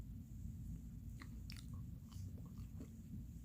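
A french fry dipped in mayonnaise is bitten and chewed up close, giving a few soft, quiet crunches over a low steady background.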